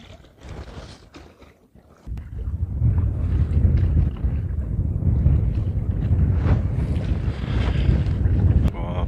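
Strong coastal wind buffets the microphone in steady, loud gusts while lure fishing for rockfish from a boat, with brief talk early on.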